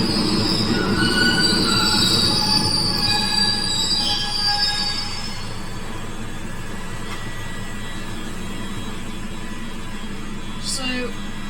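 A Glasgow Subway train pulls into Govan station with high, shrill wheel squeals over a rumbling rail roar that eases as it slows, plus a brief metallic screech near the end.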